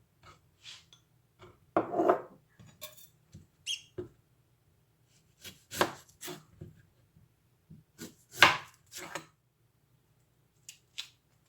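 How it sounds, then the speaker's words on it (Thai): Scattered sharp taps and scraping cuts on a board as a knife chops shallots and garlic, irregular and close, with short pauses between the knife strokes. "เดี๋ยวยังไม่ได้หั่นหอมกระเทียมเลยนะคะ"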